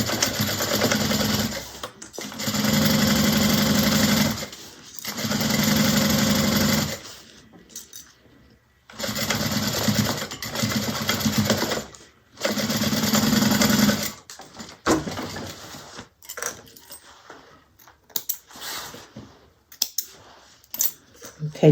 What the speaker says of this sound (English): So we're gonna sew the bottom at 1/2 inch.